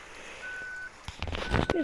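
Electronic reversing beeps of a bus in the driving game Bus Simulator Ultimate, a steady tone near 1 kHz sounding in two long pulses with engine noise and a voice talking between them.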